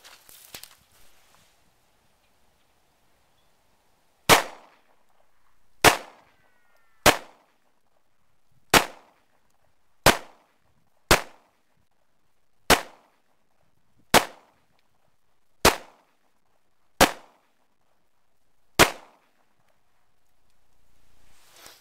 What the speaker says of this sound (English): I bought a Jimenez Arms JA9 9mm. This is the first time I'm going to shoot it.